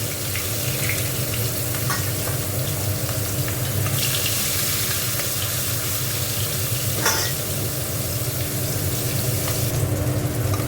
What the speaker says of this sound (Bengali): এখানে তেল গরম বসিয়ে দিয়েছি, মাছগুলো একটু ভেজে নেব।